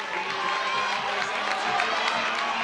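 A crowd at a bouldering competition, the Studio Bloc Masters 2025 semifinals, cheering and roaring steadily and fairly loud for a climber reaching a new high point on a problem.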